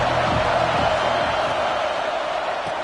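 A large stadium crowd at an Alabama vs LSU college football game roars steadily and loudly, a dense continuous wash of cheering with no break.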